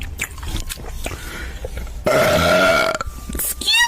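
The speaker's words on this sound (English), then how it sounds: "We didn't need to burp at like max volume." A loud, drawn-out burp erupts in the middle, long and guttural, set among faint clicks and rustles before and after.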